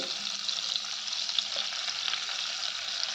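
Grated ginger and chopped onion fry in a pan for mushroom soup, giving a steady, fairly quiet sizzle throughout with no talking.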